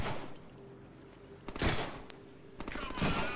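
Gunfire in the Deadpool video game on PS4: a few loud shots and bursts at close range over a steady game soundscape, with a short rapid volley near the end.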